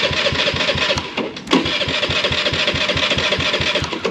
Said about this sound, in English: And then we'll start her back up and see if there's any exhaust leaks